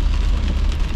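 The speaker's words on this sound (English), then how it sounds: "It's only raining." Steady rain drums on a car as it drives along a busy highway, a dense continuous hiss with low road rumble underneath, loud and close throughout with no talking.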